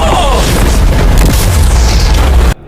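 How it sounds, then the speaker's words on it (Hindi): A car blows up in a loud explosion, a dense, heavy roaring blast that fills the clip and then cuts off abruptly. "जोरदार धमाके के साथ उड़ जाती है।"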